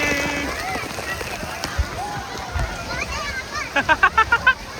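Water splashes and crashes around a water park ride while children and adults shout and talk over it, ending in a quick series of rhythmic splashing bursts.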